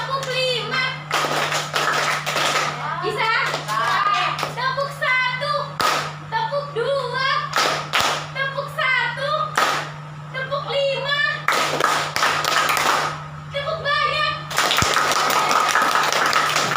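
Children clap hands in a counted rhythm in a classroom, with sharp bursts of clapping between stretches of a voice and children's talk over a steady low hum.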